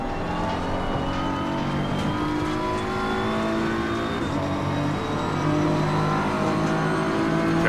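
A BMW M race car engine in Assetto Corsa Competizione at Brands Hatch drones loudly and continuously, its revs climbing and shifting in pitch, with no talk over it.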